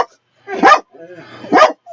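A dog barks at other dogs outside, two sharp loud barks about a second apart with a softer whine between them, close by indoors.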